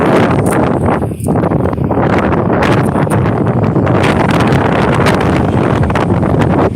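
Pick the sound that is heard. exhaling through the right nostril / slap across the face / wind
wind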